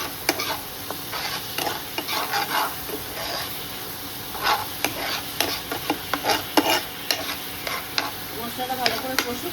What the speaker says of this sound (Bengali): এতে মশলাটা ভালোভাবে কষি